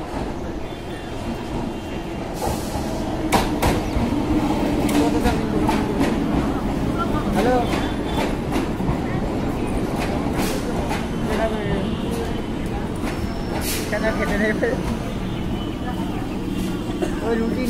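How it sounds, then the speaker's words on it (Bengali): A Krishnanagar–Sealdah local train pulls into Ranaghat station with a loud, continuous rumble and a run of sharp metallic clicks and clanks from the wheels. Voices can be heard faintly in the background. "এখন একটা লোকাল ট্রেন আসছে কৃষ্ণনগর শিয়ালদহ"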